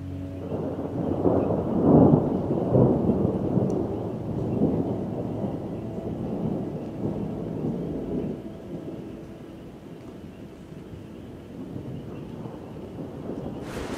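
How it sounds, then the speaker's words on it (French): Deep rolling thunder from an approaching storm in Mozambique rumbles loudly at first, then settles into a lower, continuous grumble with wind buffeting the microphone. "Il y a l'orage qui est en train d'arriver"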